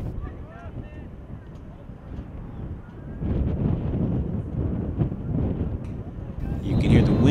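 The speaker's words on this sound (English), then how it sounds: "You can hear the wind starting to pick up." Steady wind rushing and buffeting across a microphone outdoors at an evening JV boys lacrosse game, a broad rumbling roar that grows stronger midway and again near the end, with faint distant voices underneath.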